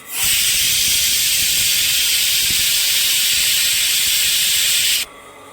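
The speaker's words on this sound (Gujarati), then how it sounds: "આ બીજી સીટી." A pressure cooker whistles while khichdi cooks, one loud, sustained high-pitched steam hiss lasting about five seconds and then cutting off abruptly.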